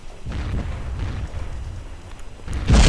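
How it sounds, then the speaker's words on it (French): A low, rumbling explosion in the online shooter Red Crucible Firestorm builds through the clip and ends with a sudden loud close blast, with no voices. "Bam. Cette explosion. Magnifique."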